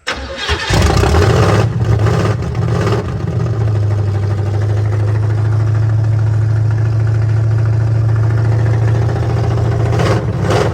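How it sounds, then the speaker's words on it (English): A Chevrolet squarebody truck engine cranks briefly, then catches and roars loudly to life before settling into a steady close rumbling idle that runs to the end. "Let's see if we can get it to actually crank for a second."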